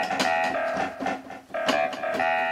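A UB51 keyboard instrument associated with reggae plays short bright chordal stabs in a bouncy rhythm, about half a dozen hits over a couple of seconds, clear and alone with no voice.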